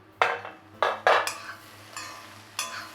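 A metal lid lifted off a pan where ivy gourd fry simmered on low flame, giving several sharp clanks and scrapes of metal against metal, close and fairly loud, with quiet pauses between.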